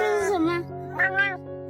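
A stray orange cat meows in two drawn-out, wavering calls close by, the second rising higher and louder after a short pause.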